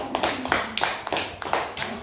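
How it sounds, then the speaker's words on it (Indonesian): A small group of students in a science class claps for a classmate named Celo, bursts of applause coming in quick uneven rounds, fairly close and moderately loud. "Tepuk tangan untuk Celo dulu."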